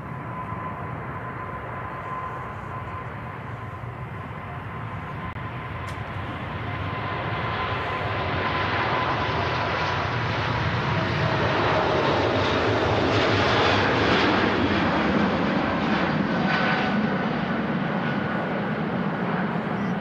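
A departing airliner at Manchester Airport, its jet engine roar building steadily over twenty seconds from a distant rumble to a loud, sustained broadband roar with a faint whine as the aircraft climbs away.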